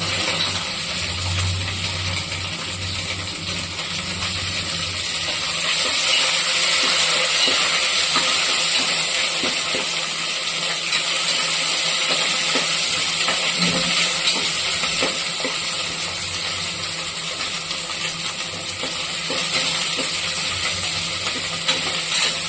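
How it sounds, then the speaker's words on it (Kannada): Onions frying in a pan for soya paneer pulao, a loud steady hiss and sizzle of oil that holds continuously and close throughout. "ಈರುಳ್ಳಿ ಬ್ರೌನ್ ಕಲರ್ ಬರೋಕ್ಕಂತ ಸ್ವಲ್ಪ ಫ್ರೈ ಮಾಡ್ಕೊಳ್ಳೋಣ"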